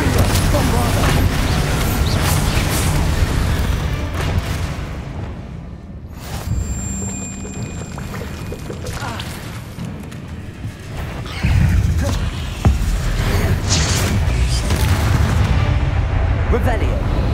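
Spell-cast explosions from the Bombarda curse in Hogwarts Legacy, booming blasts amid a dense wash of combat noise and magical effects, loud and continuous with a brief lull in the middle.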